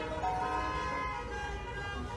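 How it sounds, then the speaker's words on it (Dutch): Car horns toot and honk in congested traffic outside an IKEA, a dense, steady din of honking layered over continuous engine and road noise throughout. "Je hoort ze al toeteren"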